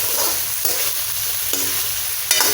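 Small fish and colocasia stems frying in a pan over a low gas flame without water, a loud continuous sizzle broken by a few spoon-stirring scrapes, close and without speech.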